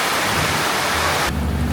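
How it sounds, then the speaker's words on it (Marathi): A heavy downpour during a thunder and lightning storm produces a dense, loud roar of rain that shifts abruptly near the end of a brief stretch. "पण खूप पाऊस पडतोय, विजा कडकडत आहे आणि पाऊस एवढा जोरात धोधो वाहतोय."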